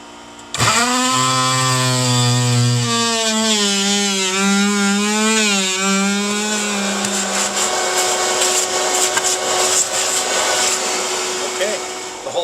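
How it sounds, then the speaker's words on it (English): An oscillating saw drops into boat fiberglass along a marked line for a flush-mounted chartplotter cutout, a loud, steady buzzing whine that holds for about eleven seconds, its pitch shifting slightly as the cut proceeds. "this oscillating saw, you can actually just drop right in along the line and make a cut"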